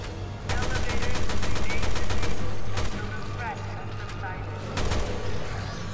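Rapid bursts of gunfire in Resident Evil 2, a fast run of sharp repeated shots followed by a few more volleys, loud and up close over a steady low game hum.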